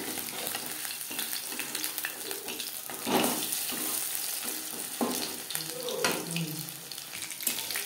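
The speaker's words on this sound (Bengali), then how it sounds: "একটা সাইড ভাজা হয়ে গেলে অপর সাইডটা উল্টে দেব।" French fries frying in hot oil give off a steady close sizzle and bubbling, with a few louder stirring or flipping scrapes breaking the hiss.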